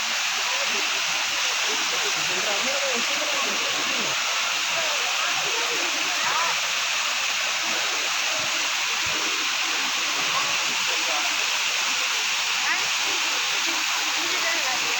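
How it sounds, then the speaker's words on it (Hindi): A loud waterfall roars in a steady, unbroken rush of water, close and constant throughout. "लेकिन आवाज़ बहुत तेज़ आ रही थी झरने की"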